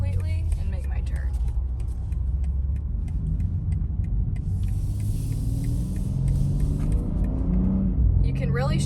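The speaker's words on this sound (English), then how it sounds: "And then I'm going to shift down to 1 completely and make my turn." BMW in first gear with paddle-shift downshift while turning: steady low engine and road rumble throughout, with faint ticking from the cabin and a brief rise near the end; no clear talk.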